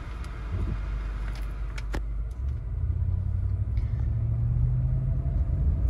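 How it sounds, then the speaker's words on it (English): A 2006 Cadillac DTS on the road during a test drive, heard from inside as a steady, loud, low engine and road rumble that swells slightly partway through, with no talking. "we'll go ahead and take it on a quick test drive"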